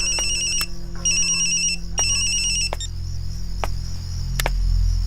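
A phone ringtone rings loudly in repeated electronic bursts with a steady beeping pattern over a low hum and sharp clicks, with no voices.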